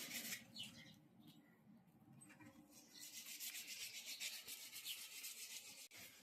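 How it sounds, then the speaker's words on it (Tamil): A chisel is sharpened for cutting a canvas belt, giving a steady, moderately loud scraping rasp of repeated rubbing strokes that grows denser in the second half, with no talking. "பெல்ட்டை கட் பண்ணுறக்கு உளியை தீட்டிட்டு இருக்கிறாரு."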